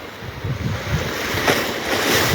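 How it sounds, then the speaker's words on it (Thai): Waves wash onto a private beach at a resort in Cha-am, Thailand, a continuous loud surf roar with rolling surges and gusty wind buffeting the microphone. "พามาชมชายหาดทะเลส่วนตัวนะครับ"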